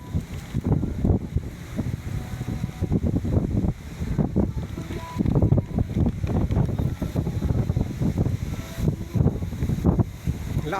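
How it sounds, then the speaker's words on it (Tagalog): Strong cold wind along the Caliraya highway in Lumban buffets the microphone in loud, gusty roars with brief lulls, steady for the whole stretch. "Lakas ng hangin oh."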